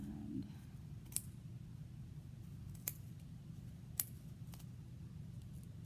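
Quiet, sparse snips of small sharp scissors cutting yarn, three or four crisp clicks spaced a second or so apart over a low steady hum.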